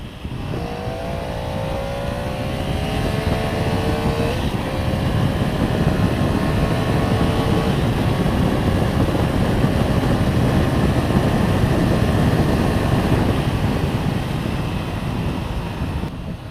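A Triumph Tiger motorcycle engine revs hard and climbs in pitch through the gears, loud and close, with a steady roar throughout and no talking.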